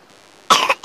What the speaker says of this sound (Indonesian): Kok batuk-batuk, Adek?